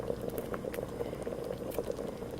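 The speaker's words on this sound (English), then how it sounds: "you see how it's boiling, and then I'm putting the thyme in there" Chicken broth soup with dumplings boiling in a pot, a steady close bubbling and popping that runs throughout.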